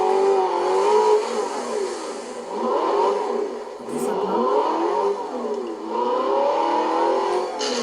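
A V8 engine in Forza Horizon 4 revs and climbs through the gears in repeated rising and falling sweeps, loud and steady throughout, with a brief spoken phrase in French.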